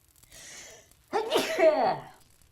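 One close sneeze from a person: a short breathy intake followed by a sharp, loud burst, alone with no talk.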